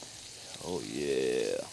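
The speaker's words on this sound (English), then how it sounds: "Now you wanna spread all your seafood out just so you get a proper sear on everything." Shrimp and Atlantic salmon sear in a hot pan with a steady broadband sizzle, while a drawn-out voiced exclamation rises over it partway through.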